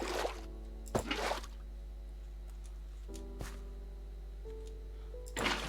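Water being placed in Minecraft makes several short, splashy liquid bursts spaced a second or more apart, fairly quiet over a low steady background hum.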